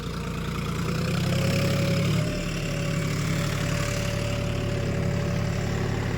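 A John Deere 5050D 4x4 tractor engine runs steadily nearby with a constant low, rumbling drone and a faint whine, heard alone with no talk.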